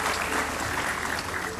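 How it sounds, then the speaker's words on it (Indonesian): A television studio audience bursts into dense, loud applause, a continuous wash of many hands clapping at close range with no pause through the short burst. "Kasih tepuk tangan sekali lagi buat Demian."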